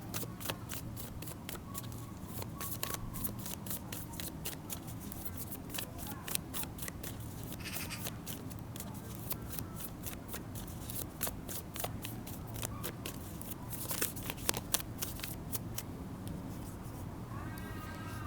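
A deck of oracle cards shuffled by hand, giving a long, continuous run of quick, crisp riffling flicks at close range over a constant low hum, with no talking.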